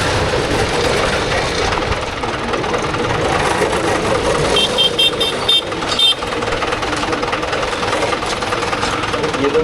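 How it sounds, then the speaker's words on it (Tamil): On a narrow village lane, a vehicle comes toward the camera while a heavy engine rumbles loudly and continuously close by, with rattling knocks and a brief burst of high beeping partway through. "வேற வண்டி வந்துக்கிட்டே இருக்கு."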